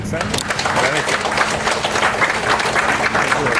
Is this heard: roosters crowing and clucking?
no